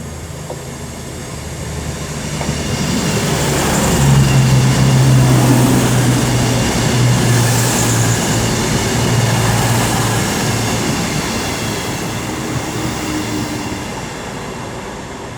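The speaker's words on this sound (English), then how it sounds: "now coming in will be the 12:15 cross-country service from Manchester Piccadilly to Bournemouth with ex-Avanti West Coast 221 115 doing the honours" A CrossCountry service worked by an ex-Avanti West Coast Class 221 diesel unit rolls into Oxford station, a loud rising engine drone and rumble that peaks mid-passage, with a steady low hum and squealing tones, then eases as it slows.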